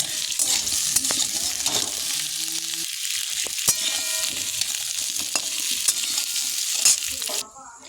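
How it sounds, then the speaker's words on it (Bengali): Potatoes, carrots and papaya frying in a pan, a loud continuous sizzle with frequent stirring scrapes, close and without talk. "তো আলু, গাজর, পেঁপে এগুলো সব ভালো করে ভেজে নেব"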